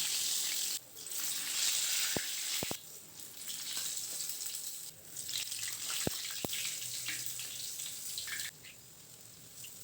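Sweet urad dal vada dough frying in hot oil, a steady loud sizzle and crackle close by, with a few sharp clinks of a utensil against the pan.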